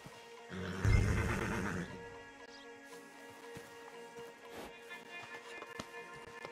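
A stallion in Red Dead Redemption 2 gives a loud, close neigh lasting about a second, then quieter hoof taps and ambient outdoor sounds follow.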